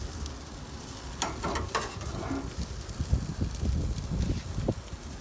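A T-bone steak sears on a grill with a steady, soft sizzle and crackle, broken by scattered pops and small scraping sounds, close up and without talk.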